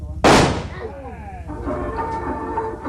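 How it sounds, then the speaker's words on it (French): A firecracker explodes with one sharp, loud bang when a thrown stone lands on it during a Colombian stone-throwing game, followed by crowd voices and ringing echoes. "il s'agit de bien viser pour que la pierre tombe sur un pétard"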